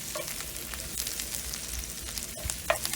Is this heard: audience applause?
no